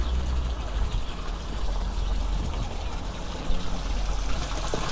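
Steady water flowing and splashing from a city fountain of Saint Jan Nepomucki in Beroun, Czech Republic, a continuous close wash of sound that runs without a break.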